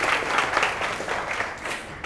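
Classroom applause for a classmate who came up front, a steady wash of clapping from pupils that holds at an even level throughout the short stretch, with no talk over it.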